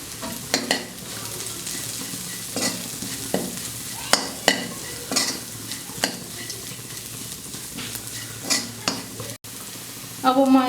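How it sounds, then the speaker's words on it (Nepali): An egg fries in a pan while chow chow soup is being made, a soft steady sizzle broken by repeated sharp scrapes and clinks of a utensil against the pan, with a louder burst of sizzling at the end. "म हल्का साइडमा राखेर यसमै अन्डा फ्राई गर्छु"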